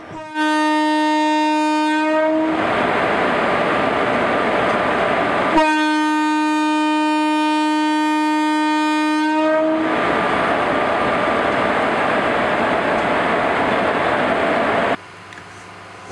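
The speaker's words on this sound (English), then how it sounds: "Take notch and start the train." An electric locomotive at Sealdah sounds its horn in two long blasts, with the rumble and rolling clatter of the train building steadily between and after them, loud and close.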